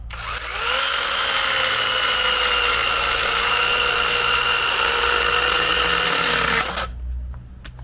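A DeWalt cordless mini chainsaw cuts through wood with a loud, steady motor whine that holds for about seven seconds, then spins down and stops, leaving near silence.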